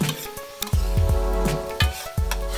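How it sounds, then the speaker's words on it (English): Onions and garlic sauté in a pan over medium-high heat, a steady close sizzle punctuated by several scraping stirs of a utensil against the pan. "Now I'm going to let this saute. The onion is going to have to saute and get soft"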